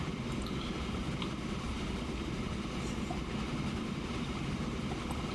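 A train runs in the video game Transport Fever, a steady rumbling rail roll with faint clatter that holds even throughout, with no voices.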